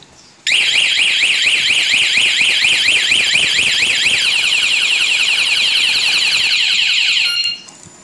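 A Kawasaki Ninja 300 motorcycle's anti-theft alarm, a loud electronic siren sweeping rapidly up and down in a repeating warble, sounding close, then cutting off abruptly after about seven seconds.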